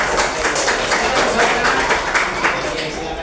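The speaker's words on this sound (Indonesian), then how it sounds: "kita kasih tepuk tangan yang meriah dulu kepada teman kita" Applause from a class fills the classroom after a student presentation, a steady patter of many hands clapping together, with some voices mixed in.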